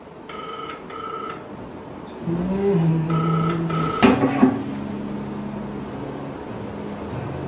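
A telephone ringback tone sounds while a call is placed, two short electronic beep pairs then two more, loud and close, with a low hum and a brief clatter in between.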